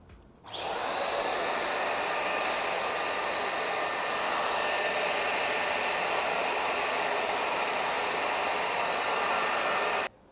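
A Deerma DX888 handheld vacuum cleaner whirs steadily at close range, a loud high-pitched motor drone that starts abruptly and runs unbroken for about ten seconds before cutting off.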